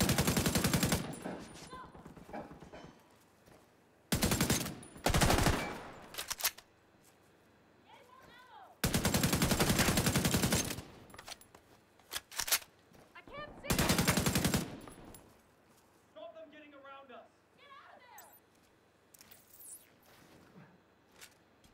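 Automatic gunfire in the Tom Clancy's The Division 2 video game, fired in loud sustained bursts broken by short pauses. Voices shout between and under the shooting.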